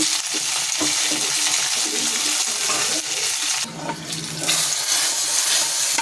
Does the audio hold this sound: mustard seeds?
yes